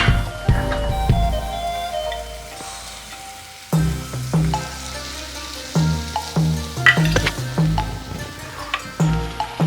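Tilapia pieces go into a hot pan for a Kerala-style fish mappas, setting off crackling, bubbling sizzles; after a quiet stretch, a sharp burst of frying is followed by repeated close sizzling pops and stirring.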